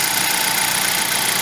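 A 2016 Hyundai Elite i20 engine idles steadily with the bonnet up, giving a continuous, even mechanical hum close by with no talking over it.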